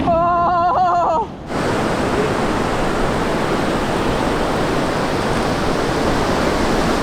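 Steady roar of ocean surf at a beach on a grey-weather day, loud and continuous, following a short burst of other sound at the start; no talking.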